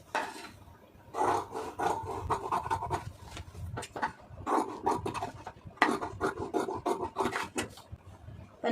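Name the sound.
scissors cutting blouse fabric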